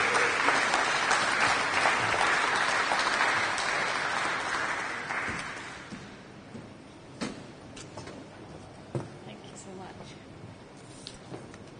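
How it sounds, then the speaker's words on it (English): An evening audience at the London Transport Museum applauds warmly for about five seconds, then the clapping fades into scattered claps and quiet room noise. "can we give her a round of applause, please?"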